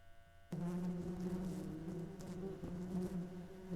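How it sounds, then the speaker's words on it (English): Bees buzzing in a PS1-style horror video game, a steady low drone that starts abruptly and holds at an even, moderate level throughout, with no talking. "Oh, I'm hearing the bees again."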